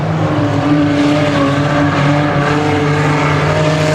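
Race car engines roar loudly and continuously as cars take the checkered flag at a speedway, a sustained dense engine drone with steady tonal whine and no pauses.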